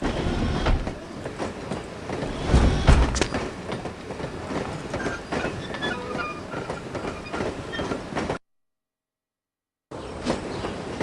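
Train rolling past in the video game No One Lives Forever, near and loud, with rumbling wheels and clickety-clack rhythm, a brief gap of silence near the end before the rumble resumes.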